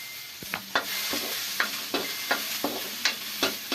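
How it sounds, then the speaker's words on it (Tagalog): Onion, garlic and ginger sizzling as they brown in a pan: a steady hiss with a regular series of sharp scraping stirs from a spatula, close and unaccompanied by talk. "medyo i-brown muna natin itong sibuyas, bawang at luya"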